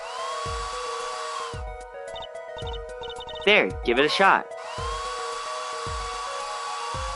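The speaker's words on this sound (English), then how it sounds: "Just press X to blast it with that dryer." A steady electric dryer drone hums and whirs through a puzzle scene of drying plaster in an Apollo Justice Trilogy game, joined by a few clicks and short synthesized voice blips, with someone talking briefly midway.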